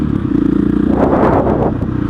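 A KTM 660 SMC motorcycle on the move, its single-cylinder engine pulsing loud and close with a steady thumping rhythm, wind rushing over the mic and a rise in revs partway through.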